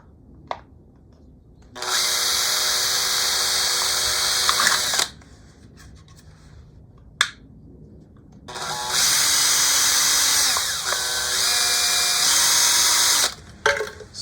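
A power drill whines loudly drilling holes in aluminum tins through two long bursts of several seconds each, with clicks and brief quiet handling noises between them.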